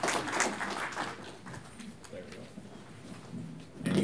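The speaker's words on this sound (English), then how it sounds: "So round of applause for Dan" Audience applause at a lunch-and-learn event: a burst of clapping at the start fades into low murmur and a voice, then clapping swells again briefly at the end.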